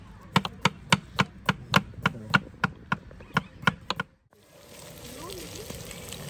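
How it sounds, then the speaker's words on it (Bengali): A knife chops onions on a board at a campsite in Slovenia, with about a dozen crisp, evenly spaced strikes close up, then stops, leaving a soft watery background. "মারাত্মক সুনিপুণ হাতে রনি ভাই দরদ মহব্বত দিয়ে পেঁয়াজ কাটছে"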